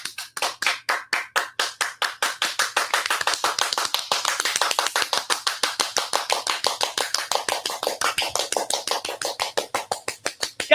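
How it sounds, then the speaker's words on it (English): Rhythmic clapping in a talk-show studio: steady, evenly spaced sharp claps close to the microphone, speeding up into a rapid, continuous run for several seconds before slowing again, with no talk. "clap it up for him"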